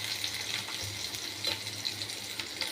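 Pointed gourd fries in oil in a pan over low heat, giving a steady, soft crackling sizzle with small pops, close and heard alone.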